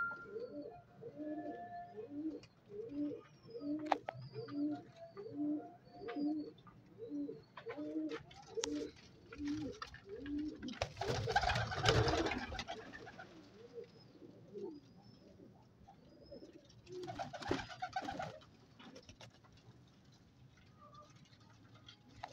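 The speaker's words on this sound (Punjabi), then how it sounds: "ਆ ਚਿੱਟੀ ਆਖਦਾ ਬਹੁਤ ਅੱਛਾ ਕਬੂਤਰ ਹੈਗਾ।" High-flyer pigeons coo in a run of rhythmic, repeated calls close by, followed by bursts of fluttering wings and scattered softer coos, with no voices.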